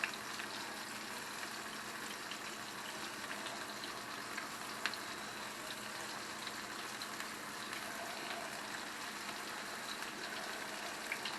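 Flounder pieces deep frying in a pot of oil, a continuous, quiet bubbling sizzle that stays level throughout, with no talking.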